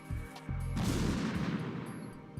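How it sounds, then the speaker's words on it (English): In the video game Metal Gear Solid 2, a large explosion goes off in a confined room as a sudden loud blast that rumbles and slowly fades, after a few quieter game sounds. "That was a pretty large explosion."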